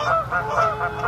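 Several geese honk repeatedly at an outdoor campsite, a loud, close, overlapping chorus of nasal calls running throughout without any talking.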